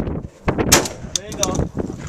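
Shotgun blasts at an outdoor shooting range, a few sharp loud reports in quick succession with voices talking around them.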